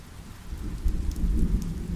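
Rain falls steadily at night outside a forest shelter near a waterfall, a dense close patter on surfaces with a low rumble beneath, continuous for two seconds and no voices.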